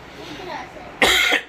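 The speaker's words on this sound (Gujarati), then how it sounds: "ઉધરસ આવે છે મને" A single harsh, close cough bursts out after a quiet stretch of faint background sound.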